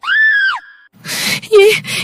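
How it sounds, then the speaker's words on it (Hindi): A woman's loud, rising scream opens a dramatic horror-story scene, followed by a brief pause, breathy noise and a short wailing cry, all close and intense. "अनीता ने यह रूप देखते ही जोर से चीख मार दी।"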